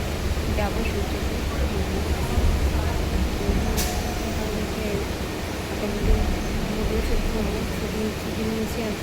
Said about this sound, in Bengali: এই যে এখন ট্রেনে আছে, যাবো সূর্যপুর।